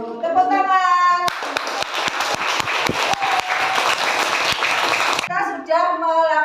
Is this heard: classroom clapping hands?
yes